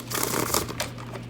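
A deck of tarot cards being shuffled close up, a quick burst of riffling, flapping card sounds over a faint low hum.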